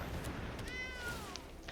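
A cat meows once with a drawn-out, falling tone when a cat card is played in the MTG Arena digital card game, heard faintly over a low background hum with a brief chime near the end.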